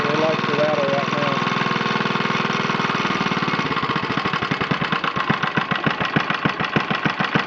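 A 1950 Briggs & Stratton 6S engine clamped to a table idles very low, its steady drone slowing into loud, distinct chugging firing pulses with rattling from the table, close and continuous.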